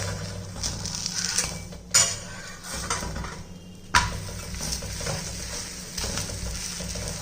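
Ragi roti cooking in oil on a hot pan for weight-loss recipe, a steady close sizzle with occasional scraping and clinks of a utensil against the pan, no talking.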